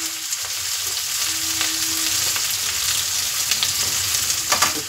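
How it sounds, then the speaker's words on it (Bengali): Onions fry in hot oil with a steady, moderately loud sizzle, broken by occasional stirring scrapes and crackles. "পেঁয়াজ ভাজতে একটু টাইম যায়।"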